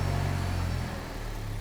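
A Toyota Prius hybrid drive system running on a test bench gives a steady low mechanical hum and whine that eases slightly as it is brought to a stop, close and continuous with no talking.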